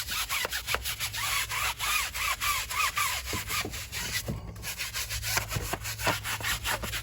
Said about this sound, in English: Then we clean the tire using a hard bristle tire brush.